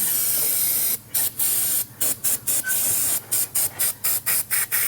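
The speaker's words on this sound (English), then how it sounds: "I don't know if I can find a can of brake clean with the actual nozzle on it." Aerosol can of brake cleaner sprayed on a Mazda RX7 fuel return line, a loud close hiss in about a dozen short bursts with a few longer ones, growing quicker toward the end.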